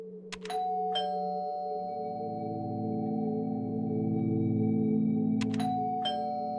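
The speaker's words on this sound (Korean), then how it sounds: "초인종을 눌러도 아무 기척이 없는 거예요" A doorbell chimes twice, a few seconds apart, each a bright two-note electronic ding-dong over a low steady hum.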